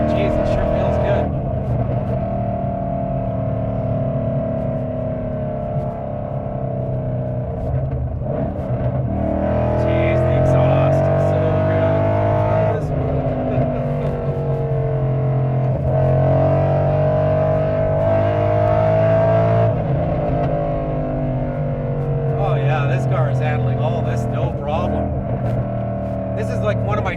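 A 2012 Ford Mustang Boss 302 drives along a winding road, its engine droning steadily with rising and falling revs, heard from inside the cabin while people talk over it.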